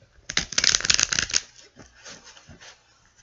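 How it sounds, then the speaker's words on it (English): Tarot cards being shuffled by hand up close, a dense burst of riffling and slapping for about a second, then softer, sparser shuffling flicks. "Please feel free to fast forward through this if you don't want to watch me shuffle"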